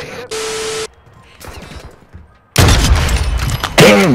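Sniper gunfire in a Search & Destroy video game match: a sharp loud shot and blast arrive after a quieter stretch of game noise, then a second burst follows near the end, each sudden and close.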